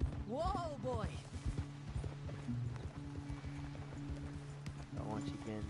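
Horse hooves clip-clopping in Red Dead Redemption 2, a steady trotting rhythm close by, with a whinny early on and someone talking over it.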